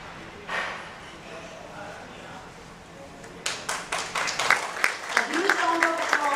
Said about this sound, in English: A huge round of applause for Mrs. Aarti Sajdev Kambali.